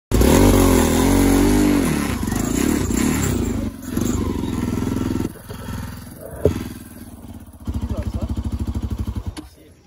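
A motorcycle labours up a rough off-road trail in Nuwakot, Nepal, its engine revving and fading with clattering and scraping, then a close rhythmic idle putter near the end, with brief voices.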